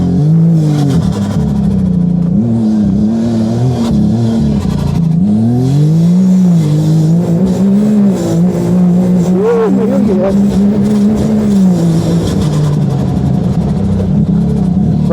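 Side-by-side off-road vehicle driven along a tight, twisty track, its engine loud and close, rising and falling in pitch as it revs through corners, with a voice talking over it.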